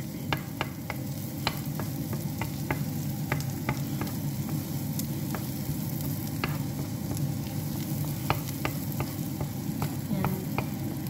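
Garlic fries and browns in oil in a pan, giving a steady close sizzle with scattered sharp pops and light stirring scrapes throughout.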